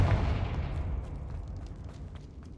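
A Confringo blasting curse explodes in a Harry Potter video game: one close, heavy boom that hits hard at the start, then rumbles and fades over a couple of seconds.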